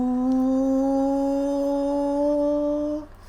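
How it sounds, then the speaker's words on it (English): A train's DC motors under a pulse width modulation drive give off a steady, loud tonal whine with stacked harmonics that holds level for about three seconds and then cuts out. "And that is the sound of the pulsing."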